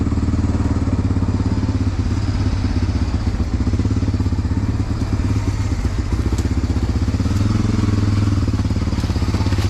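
A Honda 300 four-wheeler ATV with a lifted, four-inch-stretched frame and 29.5 tires runs steadily close by, its engine putting out a loud, even, throbbing drone with faint clatter, unchanged throughout.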